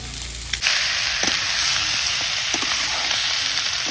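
Meat frying in a pan in a village kitchen, a loud steady sizzle that starts abruptly near the beginning, with occasional light scrapes and stirring clicks, no speech.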